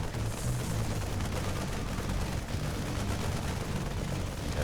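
Siege tank cannon fire pounds a Protoss pylon in a StarCraft 2 match, a dense, continuous rumble of booming shots and explosions that stays loud throughout, with no voices.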